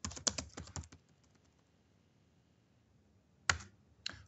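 Search terms are typed on a computer keyboard in a forensic search application. A quick burst of key clicks is followed by a quiet pause, then a few more isolated taps, close and crisp, with no talk.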